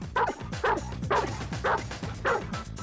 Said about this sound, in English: He'll bark and bark for that ball.